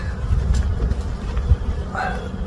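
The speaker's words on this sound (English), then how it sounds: "I am seeing lots of bees." A dense, steady hum of many honeybees buzzing close by around an open hive during an inspection, with low rumbling bumps from handling nearby.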